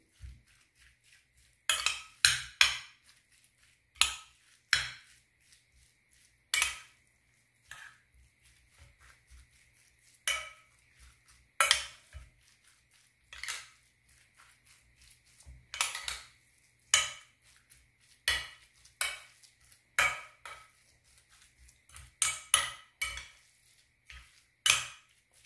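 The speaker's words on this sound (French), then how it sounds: "Je vais mélanger le tout avec la viande hachée." Minced meat and a stuffing mixture for gratinéed stuffed potatoes being stirred in a bowl, with a spoon clinking and scraping against the dish in irregular bursts, close and fairly loud, with quiet pauses between strokes.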